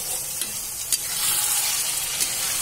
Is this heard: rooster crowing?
no